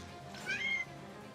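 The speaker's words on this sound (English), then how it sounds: "And you might even hear my cat." A pet cat gives a single short meow, faint and a little distant, over a quiet background hum.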